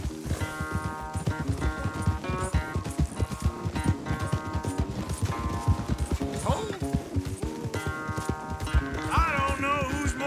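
Horses gallop during a race in the video game Red Dead Redemption 2, with rhythmic hoofbeats running steadily under a tonal music score throughout.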